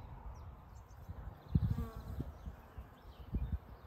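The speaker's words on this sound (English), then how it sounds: "If you stand still in the apple blossom for a minute and listen, you can hear the bees." Bees working through apple blossom outdoors, a low, faint, wavering buzz under soft ambient noise, with a couple of louder passes as insects fly close to the listener.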